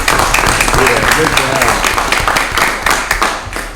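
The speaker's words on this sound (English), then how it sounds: "Let's give them a round of applause" An audience at a parish council meeting applauds the staff, steady close clapping from many hands that lasts several seconds, with voices talking over it.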